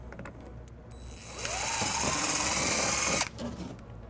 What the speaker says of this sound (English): then we'll drill our first hole